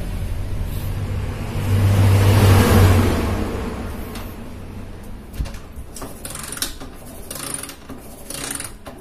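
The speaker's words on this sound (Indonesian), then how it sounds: "di starter nggak bisa ya." A Honda GL motorcycle with a worn, slipping starter and a long-stroke conversion cranks on its electric starter without catching: a loud mechanical whir and rumble that swells and fades, then scattered clicks and rattles, with no voices.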